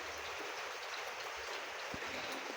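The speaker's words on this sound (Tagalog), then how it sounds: "Pero pag ganitong oras mga lods, umuulan." Steady rain falls outside a house at night, a faint, even hiss that continues without pause.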